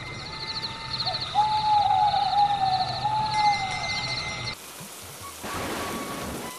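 Steady rain falls over a farming village as the monsoon season arrives, a soft continuous hiss with hooting owl-like calls above it, the rain growing coarser and louder near the end.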